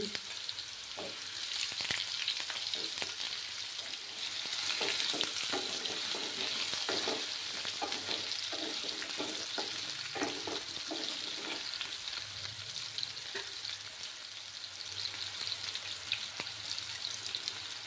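Diced potatoes frying in a pan over a low gas flame, salted and browning, give a steady broadband sizzle with scattered clicks of stirring throughout, fairly close, with no voices.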